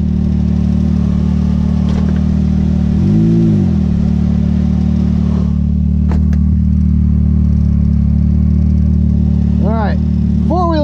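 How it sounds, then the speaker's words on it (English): Four-wheel drive vehicle on paddle tires accelerating uphill on sand dunes, a steady loud engine drone with a brief rev swell early on, and further rising rev sweeps near the end. "four-wheel drive paddle, 0 to 60 uphill on the sand"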